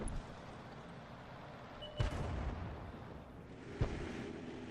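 A GW Panther self-propelled gun fires artillery shells in a video game, giving two muffled booming shots a couple of seconds apart over a steady rumbling battlefield background.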